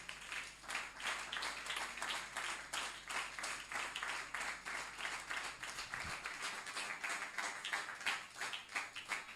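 A church congregation at a youth gathering applauding to acclaim the Lord, steady rhythmic clapping from many hands throughout, moderately loud and fairly even, with no talking.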